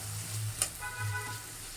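Vegetables frying in a pan for a mustard-paste vegetarian curry, a steady soft sizzle with a brief clink of a utensil, close and fairly quiet, no talking.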